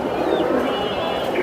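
Pigeons at a pigeon market coo continuously nearby, low throaty calls overlapping in a dense, steady murmur with no talking.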